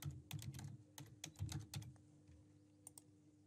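Someone types an email address on a computer keyboard, with soft, quick key clicks in short bursts. After a pause, a few more taps follow. The sound is faint and close, with no talking.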